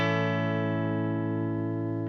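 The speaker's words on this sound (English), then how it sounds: "This is the sound of just the Boss Katana amplifier," An electric guitar played through a Boss Katana amplifier for a clean tone. A single chord sustains evenly for about two seconds, full and steady, with no voices over it.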